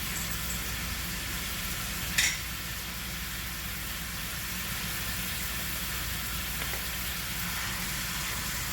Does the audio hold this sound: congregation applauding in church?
no